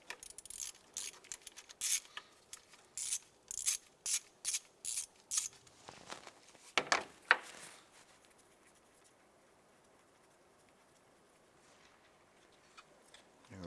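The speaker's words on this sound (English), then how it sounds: "Let's go ahead and use our 10mm socket, and we're going to go ahead and remove the bolt on this." A 10mm socket ratchet loosens the knock sensor bolt on a 2011-2019 Ford Fiesta, giving close, rapid bursts of clicking in short repeated strokes, then quieter handling noises.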